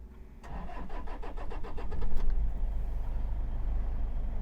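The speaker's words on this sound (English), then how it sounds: "let's start the car." A car engine cranks for a couple of seconds with rapid starter pulses, then catches and settles into a steady, loud, close idle.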